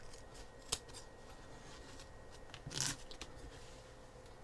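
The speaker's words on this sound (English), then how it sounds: "In fact, I'm going to go ahead and cut this" Scissors cut through material for a hand-stitched case, giving a sharp snip near the start and a louder crunching cut toward the end, close and fairly quiet over a low room hiss.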